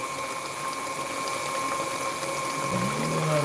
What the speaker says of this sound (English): See all that water splashing everywhere now?